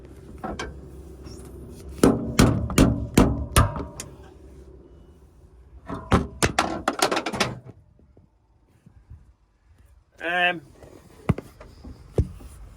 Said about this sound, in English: Let me hit it with hammer here.